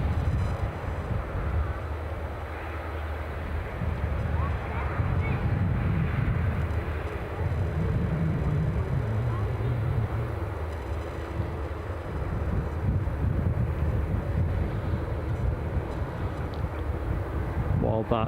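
An EasyJet Airbus A319 at Edinburgh Airport gives a steady, broad engine roar with low rumble that holds for the whole stretch, mixed with wind buffeting on the microphone.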